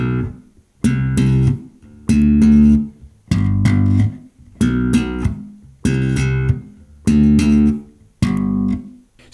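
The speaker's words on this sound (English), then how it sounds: "very simple bass line using slap rest stroke that sounds like this" A slapped bass guitar plays a simple repeating line using slap rest strokes: eight punchy, sustained notes in a steady rhythm, each separated by a brief silence, loud and close.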